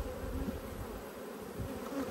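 Honey bees buzz in the air around backyard hives, a soft, continuous drone from many insects with faint individual passes rising and fading.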